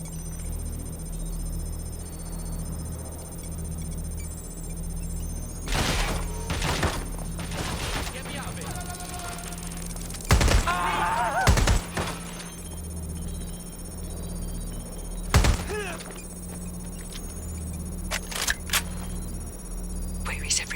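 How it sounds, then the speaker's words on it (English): Turret gunfire in the game Watch Dogs Legion, scattered bursts of rapid sharp shots against a steady electronic hum, with several separate volleys spread across the stretch and a voice talking in places. "This turret's gonna do you in."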